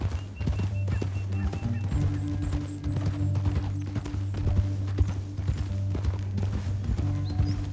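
Horses ride through a canyon in Red Dead Redemption 2, hooves pounding in a quick, rolling clip-clop rhythm, close and continuous, over a low rumbling music bed with a brief whinny.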